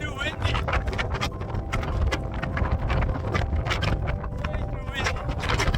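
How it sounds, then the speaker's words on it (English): Strong wind roars and buffets steadily across an exposed mountainside, a dense, rumbling rush right at the microphone that never lets up, with a voice faintly mixed into the noise. "It's just too windy."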